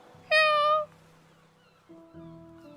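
A voice imitates a faint, high-pitched cat meow, one short rising mew heard close, followed by a low hum.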